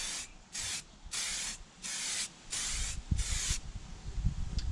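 Aerosol spray paint can laying a light coat of frozen white onto car interior parts outdoors, in six short, evenly spaced hissing bursts, close and fairly loud, with wind rumbling in the background.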